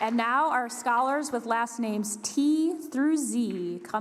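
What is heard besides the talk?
No everyday noises stand out.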